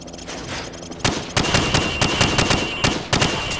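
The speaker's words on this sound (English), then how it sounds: "Now, shoot at the targets while firing from the hip." Rifle fired from the hip at practice targets in Call of Duty 4: Modern Warfare, a quick run of about a dozen loud, close, sharp shots in uneven bursts.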